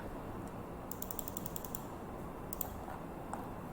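A cutting machine runs a cut, giving a steady mechanical hum with a quick series of light ratcheting clicks partway through and a few more near the end.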